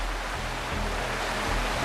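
Steady broadband rush of a waterfall beside a pond in the video game Wuthering Waves, a continuous even wash of falling water with a low rumble, moderately loud and unbroken, with no voices.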